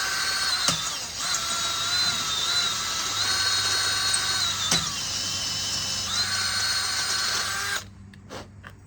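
A power drill whines steadily as it enlarges bolt holes in a Hurst shifter bracket for a 1970 Ford Falcon, with no cutting fluid. The bit bites with a couple of sharp clicks, and the drill stops abruptly near the end.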